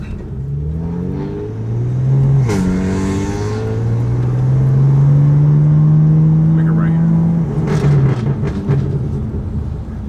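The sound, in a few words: sports car engine intake revving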